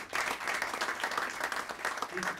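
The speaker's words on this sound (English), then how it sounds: "they deserve a round of applause" Loud, dense applause from the audience fills a Blueband margarine factory launch for Unilever in Nigeria, with continuous clapping throughout the short stretch.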